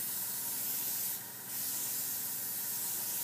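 Steady airbrush spraying AutoAir paint on a model, a continuous close hiss that briefly cuts off and resumes partway through.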